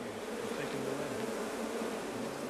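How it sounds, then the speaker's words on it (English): A dense, steady swarm of attacking bees in an apiary buzzes loudly and close, the drone holding level with wavering pitches throughout. "Bees from all over the apiary are joining the attack."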